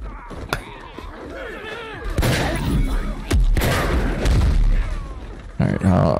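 Gunshots ring out in the video game Paint the Town Red: several sharp, loud bangs at uneven intervals, each with a short rumbling tail, over busy game noise and voices.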